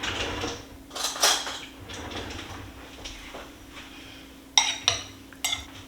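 A metal spoon clinks against a dish of taco chili, a few light, bright taps and scrapes near the end. Softer handling sounds and a faint steady hum come before them.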